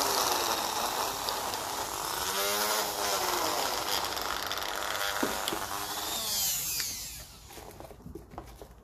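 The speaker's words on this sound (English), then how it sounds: "I think this Dremel is half shagged now. You can hear the whatever bushings in it or whatever. It's a bit rattly sometimes." A worn Dremel rotary tool with rattly bushings runs steadily and fairly loud, its high whine rising and falling in pitch with speed changes, then dropping away near the end.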